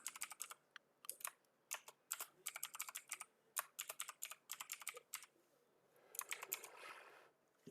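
Fast bursts of keystrokes on a computer keyboard while coding, irregular clattering runs with short pauses, close and crisp, followed by a brief softer rushing noise near the end; no talking.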